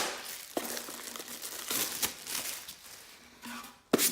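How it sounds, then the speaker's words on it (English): Plastic protective film peeled off a photo frame, heard as a run of close crinkling and crackling bursts with sharp snaps near the start and end. "I'm just going to pop this plastic off here real quickly."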